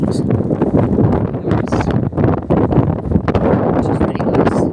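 Steady wind gusting across open winter moorland in Cornwall, roaring continuously into the microphone with a rough, buffeting rush; a voice speaks faintly beneath it.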